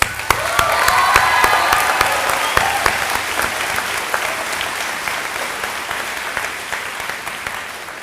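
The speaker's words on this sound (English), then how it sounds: "Let's give a round of applause for the graduates, shall we?" An audience applauds the class of 2022 graduates at a graduation commencement ceremony, a loud, full burst of clapping with a few scattered cheers that peaks early and then tapers off gradually.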